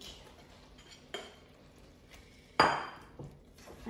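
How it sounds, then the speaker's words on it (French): A spoon stirring meat into a thick, reduced sauce in a pan, giving a few soft scrapes and one sharp clank of utensil against the metal, close and otherwise quiet. "On va remuer un petit peu pour qu'elle s'imprègne de la sauce."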